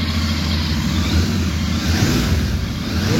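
A Royal Enfield Continental GT 650 motorcycle engine revs nearby, its deep, steady throaty drone sustained with slight swells in loudness, with no talk over it.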